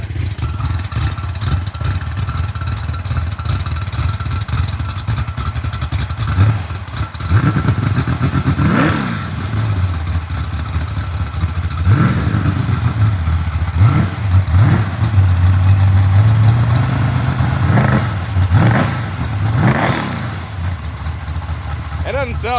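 A rebuilt 1970 Corvette LT1 V8 with an old 3030 cam idles low, then revs in several sharp blips that rise and fall, fairly loud and close, with people talking over the engine.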